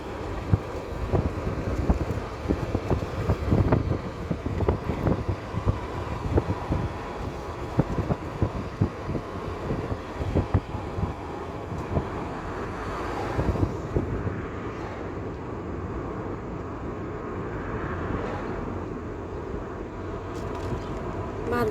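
Wind blows outdoors after floodwaters have receded, a steady low rumble buffeting the microphone for about twenty seconds, fairly quiet and without voices.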